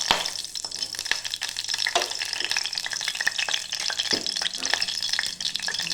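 Cumin, mustard seeds and chopped onion frying in oil in a pressure cooker give a steady, close crackling sizzle with scattered small pops and light stirring, with no talking.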